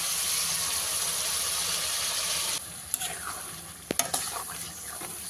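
Spice paste hits chicken in hot oil in a wok with a loud, steady sizzle, then quieter frying continues under scraping stirs and a few sharp metallic clanks of the spoon against the pan.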